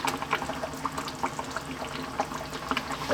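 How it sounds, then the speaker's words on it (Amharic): Melted Ethiopian butter poured into a fish stew sauce as it cooks gives a steady close liquid pouring and trickling sound at moderate level, with no talking. "ቅቤ እንጨምራለን።"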